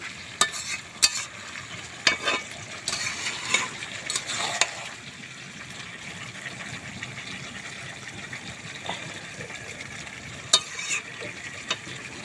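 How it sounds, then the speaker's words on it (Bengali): Chicken pieces frying in oil for chicken kosha, a steady soft sizzle with sharp stirring scrapes and clatters near the start, then quieter, even crackling with occasional spoon taps. "মাংসটা দেখুন আস্তে আস্তে মাংস থেকে তেল ছাড়তে শুরু করেছে"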